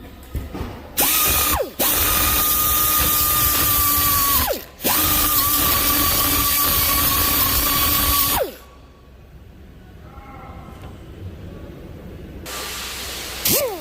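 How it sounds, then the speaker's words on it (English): A grinder cleans a brake caliper bracket in loud close bursts, with a high whining tone that drops as it spins down between passes. Quieter workshop noise follows after the tool stops. "Another method is I'll use my grinder."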